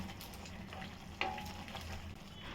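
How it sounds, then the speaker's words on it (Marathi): Ground masala paste with added water sautéing in a pan gives a soft, fairly faint sizzle, with a brief clink of a utensil partway through and no speech. "मिक्सरचं भांडं धुतलेलं पाणी त्यात टाकूया आपण परतून घेऊया"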